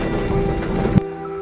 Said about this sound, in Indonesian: hujan bos.